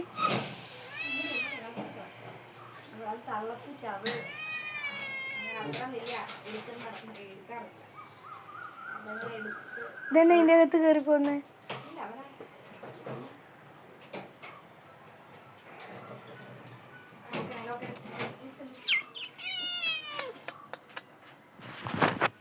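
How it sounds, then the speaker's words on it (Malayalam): A pet cat meows several times indoors, its drawn-out mewing calls rising and falling around other household sounds, with people talking nearby and a dog also kept in the home. "ഇതാണ് അപ്പോൾ ഒരു പൂച്ച."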